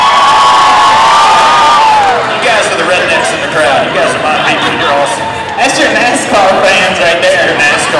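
A rodeo crowd at a Bulls and Barrels event in Raleigh, North Carolina, cheers for the bulls in 2012, with loud, sustained shouting, whoops and whistles filling the arena, then easing slightly before swelling again.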